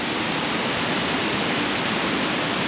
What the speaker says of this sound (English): And then there's just a waterfall.